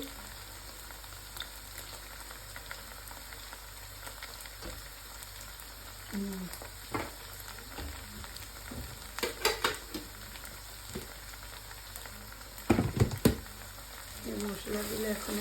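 Ground garam masala, cumin and coriander sautéing in a pan, a steady low sizzle with occasional stirring scrapes and clatters, fairly quiet and close, with bursts of handling noise near the end.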